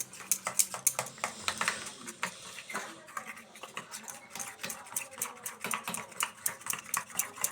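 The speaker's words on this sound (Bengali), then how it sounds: "এবার ডিম আর কর্নফ্লাওয়ারটা ভালো করে মিশিয়ে নেব।" Egg and cornflour batter being whisked in a bowl for fish chops, a quick, steady run of light tapping clicks from the utensil striking the bowl, close up and fairly faint, with no talking.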